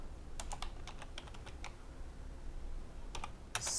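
Quiet typing on a computer keyboard, with a quick run of light key clicks, a pause, then another short flurry ending in a sharper keystroke.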